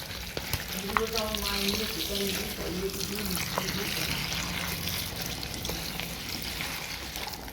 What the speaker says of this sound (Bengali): পাতাটা ভালো করে ধুয়ে নেব।